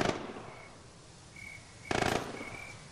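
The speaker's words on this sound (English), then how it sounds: "Oh yeah, nades." Two sharp grenade blasts in a World War II video game, one at the start and a louder one near the end, each a short broadband burst separated by quieter background rumble.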